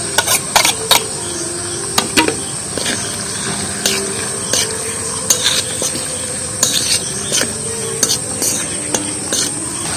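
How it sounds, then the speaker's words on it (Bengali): Garlic and green chillies frying in oil on low-medium heat for garlic pickle, with a steady soft sizzle broken by sharp metal clinks and scrapes of a utensil against the pan. "এবার দেবো রসুন, কাঁচা লঙ্কা ফেটা, সেগুলোও দিয়ে দেবো। একদম হালকা লো আছে মিডিয়াম তেলে দিয়ে দিচ্ছি।"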